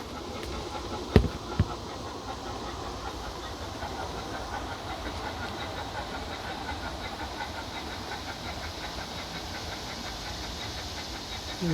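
A Bachmann Big Hauler 4-6-0 model steam locomotive plays its sound effects through the original speaker in the locomotive and tender on a partly tented layout: a loud, continuous steam hiss with rhythmic chuffing and a couple of sharp clanks near the start.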